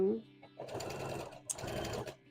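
Sewing machine stitching in two short close bursts of steady mechanical whirring, separated by a brief pause.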